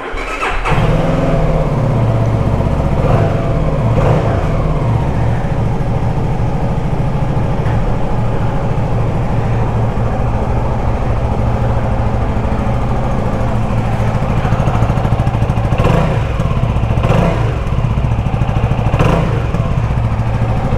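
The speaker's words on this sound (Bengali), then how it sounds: "যথেষ্ট লাউড কিন্তু এক্সজস্টের সাউন্ড" A CFMOTO 300SR 300cc motorcycle idles with a loud, steady exhaust drone and a few small blips of the throttle. It sounds close and runs without a break the whole time.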